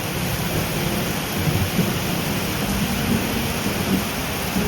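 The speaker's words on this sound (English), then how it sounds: "a thunderstorm popped up, and I quick got the laundry off the line before it started raining" Steady rain hisses throughout, with low rumbling thunder rolling underneath at moderate distance; no voices.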